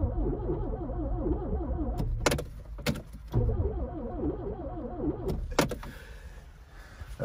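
An old Peugeot 205 GT is cranked close up, its starter whirring in wavering bursts broken by sharp clicks and clunks, with no steady running idle clearly taking hold.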